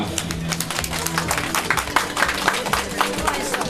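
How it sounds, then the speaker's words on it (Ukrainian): Audience applause at the festive opening of a new ATB store in the town of Balta: a steady, moderately loud patter of clapping hands mixed with crowd noise and a low musical hum. "Ваши аплодисменты, друзья!"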